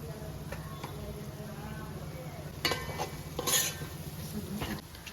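Kitchen king masala sizzles in hot butter in a pan, a low steady fizz broken by stirring scrapes and a couple of sharp metallic clinks against the vessel.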